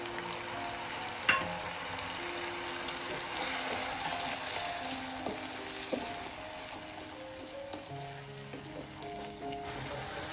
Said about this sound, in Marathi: चला फायनली अद्रक लसूण मिरची पेस्ट आणि टॅमॅटो कांद्याची प्युरी फ्राय झालेली आहे मस्त